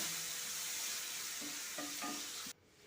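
Onion and tomato sautéing in a pan for a Kerala home-style roasted brinjal chutney: a steady close sizzle with a few stirring scrapes, cutting off abruptly near the end.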